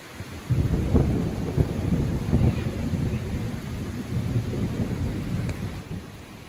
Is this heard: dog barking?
no